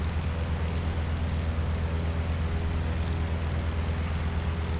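A small propeller plane engine in a flight simulator game drones at a constant, even pitch in level cruise, a steady low hum with no changes and no voices.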